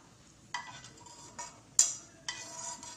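Semolina roasts in a little ghee in a pan while being stirred, making a faint background hiss broken by four separate scraping, clinking strokes of the spoon against the pan.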